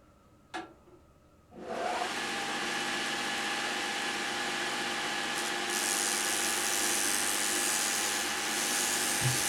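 A belt grinder running a coarse 36 grit belt starts up after a single knock and then grinds steadily on a steel hot-cut chisel, a loud continuous abrasive roar that holds for several seconds.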